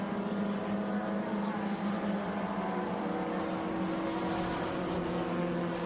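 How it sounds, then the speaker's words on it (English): A 1963 Ford Cortina race car drives past on the Laguna Seca circuit, its engine a loud, sustained droning roar that holds steady throughout without voices. "Just saw a quick glimpse of Jonathan Fiber in that Cortina from 63"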